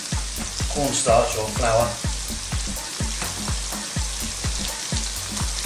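Batter-coated chicken pieces for orange chicken fry loudly in a pan, a dense crackling sizzle with regular clinks of stirring, while a voice talks briefly over it.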